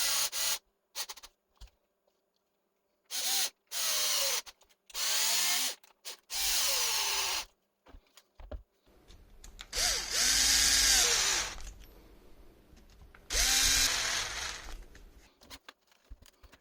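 Power screwdriver driving screws to fit a fan assembly onto a Traxxas X-Maxx RC motor heat sink, several short whirring bursts separated by silence, then longer runs, close and alone.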